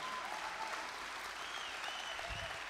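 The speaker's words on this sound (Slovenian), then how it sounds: "En aplavz za Klaro, ki se je skupaj z drugimi tako potrudila." Audience applause at a youth festival in Stična, Slovenia, sustained clapping from a crowd that sounds faint and distant, holding steady throughout.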